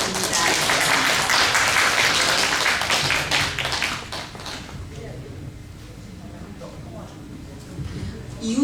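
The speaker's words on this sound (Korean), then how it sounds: "다시 한번 큰 박수 부탁드립니다." Audience clapping after a tax-saving lecture for small business owners at a national forest experience center, a dense burst of applause for about four seconds that quickly thins and fades into quiet room noise.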